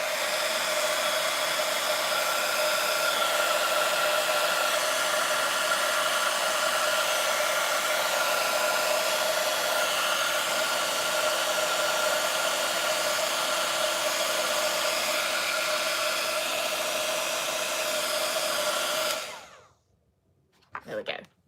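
Heat embossing tool blowing hot air to melt embossing powder on a papercraft project, a steady close whooshing hum held for about nineteen seconds before it shuts off, followed by faint clicks.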